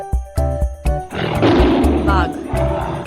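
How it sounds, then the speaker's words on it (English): A tiger lets out a loud, rough, sustained roar that swells and rolls on, preceded by a few short rhythmic sounds. "Tiger"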